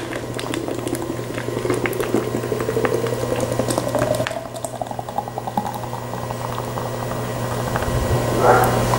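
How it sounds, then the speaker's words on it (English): Modern Times Nitro Golden Stout poured hard from a can into a glass, a close, steady glugging rush of liquid with fizzing foam that rises in pitch as the glass fills. "We'll pour it hard."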